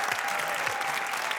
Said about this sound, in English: why we're applauding that